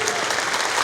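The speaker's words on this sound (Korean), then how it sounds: "박수" Applause from a church congregation at a Catholic youth praise retreat, a dense, steady wash of many hands clapping loud and close for the whole short stretch.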